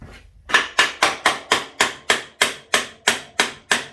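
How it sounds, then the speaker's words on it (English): A hammer strikes a tight part near the chain of a Honda CB750 K2 motorcycle during brake work, landing about a dozen sharp metallic blows in a steady, even rhythm with no talking. "Let me get my magic hammer."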